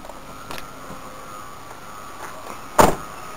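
A car door thumps once near the end after a quiet stretch of low background hum, as someone steps out of the car in a driveway during river flooding in Fort Atkinson, Wisconsin.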